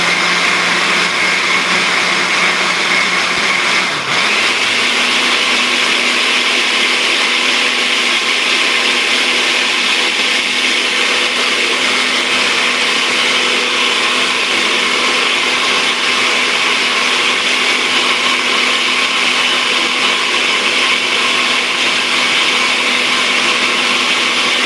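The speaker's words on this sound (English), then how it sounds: "we're gonna have to put this in the blender to make this more time usable" A blender whirs continuously as it mixes homemade lotion salve, giving a loud, steady motor whine with a brief pitch shift early on and then an even drone.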